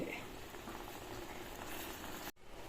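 Steady bubbling and seething of tea made with milk powder boiling in a pot, continuous and close, cut off abruptly near the end by a brief hush.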